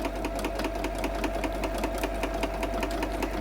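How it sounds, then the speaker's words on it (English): Steady rapid whir and chatter of a sewing machine stitching fabric, close and continuous for a few seconds. "So basically all I'm going to do is start stitching."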